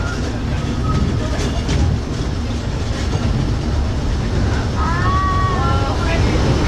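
Steady, loud rumble and clickety-clack of the Disneyland Railroad train rolling along its rails, with brief squeals from the wheels and a voice talking over the noise.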